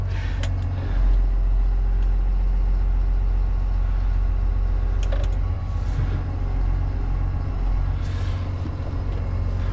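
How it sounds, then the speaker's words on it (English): A Volvo FH16 650 truck idles with a steady low diesel rumble that stays loud and constant, while brief hissing bursts near the start and a few seconds in could be air releasing as the pressure builds. "Just wait for the air pressure to build up now."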